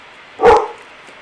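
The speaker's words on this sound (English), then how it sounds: "He barks at anything that ain't nailed down when the wind's blowing" A single sharp dog bark, fairly close and loud, standing alone against a quiet background.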